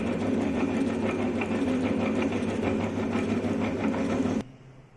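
A milling machine cuts the teeth of a spur gear with a loud, steady mechanical drone and a rapid rhythmic chatter, running continuously before dropping off sharply at the end.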